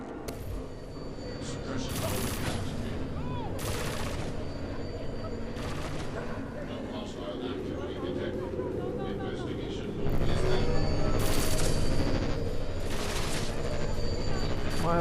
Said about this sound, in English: Why am I being shot at? I don't understand. The robot didn't see shit. Why would it shoot at me?